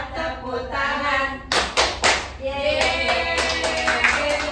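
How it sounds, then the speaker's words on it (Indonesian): An audience at a workshop on stress management claps in time with a sung children's-style song. The rhythmic claps come in a burst over the singing voice, then settle into a steadier pattern under continued singing. "Kalau kau cinta sehat, tepuk tangan."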